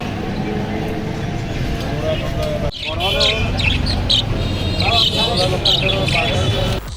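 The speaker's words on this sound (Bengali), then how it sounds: "দেখে পাখির বাজার মনে হলেও এটি আসলে শখের পায়রা বাজার।" Busy outdoor pigeon market crowd in Cox's Bazar with overlapping chatter, pigeons cooing and birds squawking and calling throughout, and faint traffic in the background.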